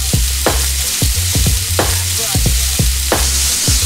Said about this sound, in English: Pan sear them to get a nice charcoal flavor on the outside and then finish them in the oven.